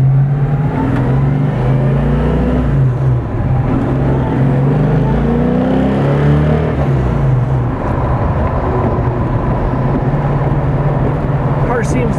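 A 1971 Plymouth Cuda engine revving under way in wintry conditions, a loud throaty drone that climbs and falls with shifts through the gears, with a person talking over it.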